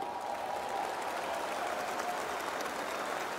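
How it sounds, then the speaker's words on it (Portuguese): A seminar audience applauds after an item is auctioned off, a steady dense wash of clapping that holds at an even, fairly loud level throughout with no voices. "Uma salva de palmas."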